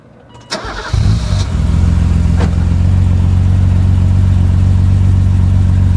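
The inline six of an early BMW M6, a 24-valve engine, catches with a quick starter whir and settles into a loud, steady, close idle that holds evenly to the end.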